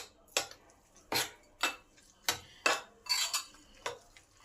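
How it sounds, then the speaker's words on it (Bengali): Spices being mixed into a grated cauliflower and egg batter in a bowl: a spoon scrapes and clinks against the bowl in about nine distinct strokes at an uneven rhythm, close and fairly quiet, with no talking. "এবার সমস্ত কিছু একসঙ্গে ভালো করে মিশিয়ে নেব।"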